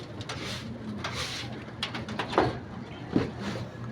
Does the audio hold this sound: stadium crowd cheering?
no